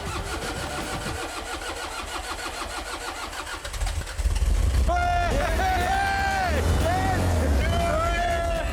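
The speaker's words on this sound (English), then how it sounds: "By using the heat gun to blow hot air into the engine, the Apaches have heated the glow plugs, breathing life into the old banger." An old banger's engine, its glow plugs warmed by a heat gun blowing hot air into the air filter, cranks and catches into a loud, steady running rumble about halfway through, under a busy background.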